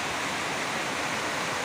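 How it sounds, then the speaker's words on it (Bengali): Heavy rain pours steadily outdoors, a dense continuous hiss that stays loud and even throughout with no talk over it. "তো বৃষ্টিটা শুরু হয়ে গেছে,"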